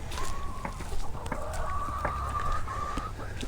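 A young chick kept isolated in a small brooder on a homestead peeps in a thin, drawn-out tone, with faint clucking and background hum.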